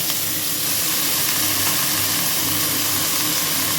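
Drumstick flowers (sajne phool) sizzle in hot white mustard oil for a Bengali bharta, a steady dense frying hiss that runs evenly throughout with no voices.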